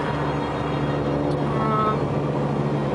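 Steady, loud road noise and engine hum come from inside a car driving along a road out of Nashville, a continuous drone with no talking.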